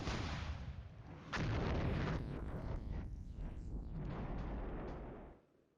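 Artillery fire in the wargame Flashpoint Campaigns Southern Storm, enemy shelling where tanks had been, a sharp blast followed by rolling booming rumble that slowly fades out, heard alone.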